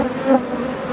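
Bees hum steadily inside a small nuc hive of Welsh Black bees, a close, continuous drone with a slight swell partway through the short moment.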